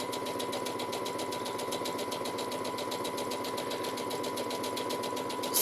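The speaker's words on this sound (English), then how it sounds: "So we are stitching all the way along." A sewing machine stitches a seam along dress fabric, running steadily and continuously with a rapid, even mechanical pulse throughout, close and alone with no talking.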